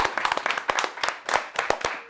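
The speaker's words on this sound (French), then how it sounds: "Je vous applaudis en tout cas, vous êtes géniaux" Close hand clapping from a few people in a small studio at the end of a French food show, irregular bursts of sharp claps with brief pauses between groups.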